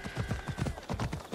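Horse hooves clip-clop in a steady, fast rhythm on the ground in Assassin's Creed Odyssey, close and loud, with no talk over them.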